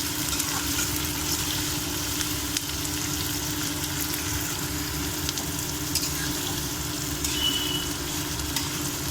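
Chopped onions frying in oil for a meal maker masala gravy, a continuous dense sizzle with faint stirring and a low steady hum underneath, close and even throughout.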